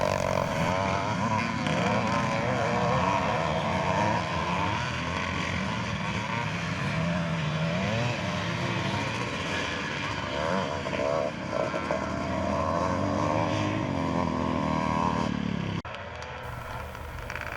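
Vintage pre-1984 class motocross motorcycles crossing the finish line at a Thornhill race in Scotland, a loud continuous blend of revving two-stroke engines from several bikes passing, sustained throughout before cutting off near the end.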